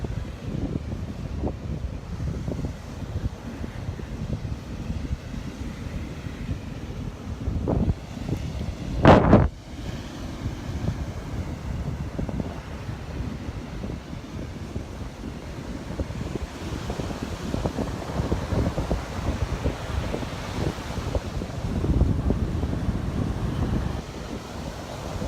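Wind buffets the microphone in a steady low rumble on a beach at sunrise in Destin, Florida, with surf washing in continuously underneath and a brief sharp knock near the middle.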